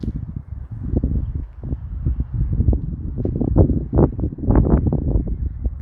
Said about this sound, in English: it gets very, very windy up here